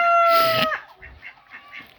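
A loud chicken call rings out first, followed by softer, scattered clucks nearby, from chickens kept alongside ducks.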